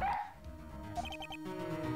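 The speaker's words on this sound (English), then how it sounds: "He's a K9 police dog, still in training." A K9 police dog in training barks in Phoenix Wright: Ace Attorney, a few short game-style woofs and yips over a steady background music bed.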